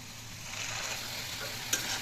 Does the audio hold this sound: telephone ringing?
no